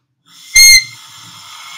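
A student's saxophone lets out a short, piercing high squeak from a loose embouchure, a bright whistle-like burst lasting a fraction of a second, then trailing into a thin, airy tone.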